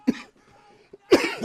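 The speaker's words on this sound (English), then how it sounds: "as he pauses to cough his guts up again." A commentator coughs during a Mount & Blade Napoleonic Wars line battle broadcast: two harsh, close coughs separated by a short quiet pause, loud and without other talk.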